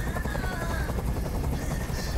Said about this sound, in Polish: w ogóle helikopter przyleciał